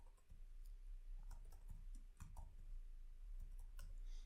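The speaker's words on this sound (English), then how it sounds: "This is typewriter." A typewriter sound effect plays alone: irregular sharp key clacks and strikes come in quick bursts with short pauses between them.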